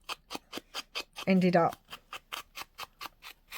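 Scissors handled at a craft table: a steady run of sharp, evenly spaced snipping clicks, about four per second, close and crisp, briefly interrupted by a short spoken remark before the clicking resumes.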